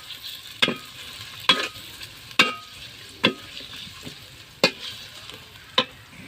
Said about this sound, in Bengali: এবার লাইড়ে নিব।